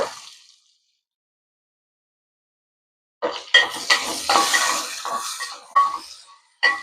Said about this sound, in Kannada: ಒಂದೆರಡು ಈರುಳ್ಳಿ ಉದ್ದ ಉದ್ದಾಗಿ ಕಟ್ ಮಾಡಿ ಇಟ್ಕೊಂಡನು ಅವತ್ನ ಹಾಕ್ಬೇಕೀಗ